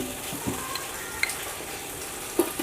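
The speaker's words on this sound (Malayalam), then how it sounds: "ആദ്യം നമുക്ക് 1 സ്പൂൺ നെയ്യ് ഒഴിച്ചുകൊണ്ട് പാത്രമൊക്കെ ചൂടായി." Ghee sizzling as it heats in a pot over a flame, a steady soft crackle with a few brief louder pops and clinks, close and alone.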